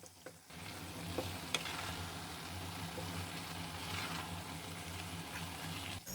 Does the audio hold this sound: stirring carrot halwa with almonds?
yes